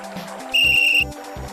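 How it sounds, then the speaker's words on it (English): A magic whistle blown in the Simon the Sorcerer adventure game on Amiga CD32: one steady, loud, high whistle tone held for about half a second over looping game music, with no voices. "if we have a magic whistle, that's all we need to get past this roadblock"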